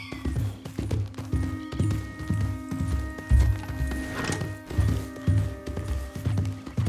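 A horse's hooves clip-clop at a steady walking rhythm in the video game Red Dead Redemption 2, close and clear over a faint ambient hum, with no talking.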